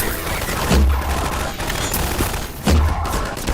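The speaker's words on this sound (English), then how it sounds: "I had no idea this was the mortar that they were firing" A suppression mortar fires in the video game Half-Life 2, loud booming blasts heard twice with a rumbling low thud, over continuous noisy battle ambience.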